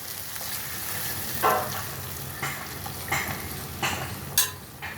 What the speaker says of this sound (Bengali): এখন আমি ওলকপিটা এর মধ্যে ঢেলে দেবো।